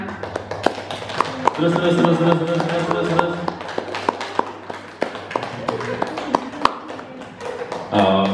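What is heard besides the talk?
group clapping hands in a class exercise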